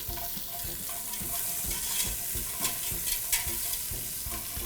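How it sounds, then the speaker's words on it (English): Julienned onions sautéing in a pan for green beans, a continuous dense sizzle with soft stirring scrapes, close and steady with no voices. "We'll let them saute a little bit."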